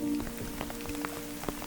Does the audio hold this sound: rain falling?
yes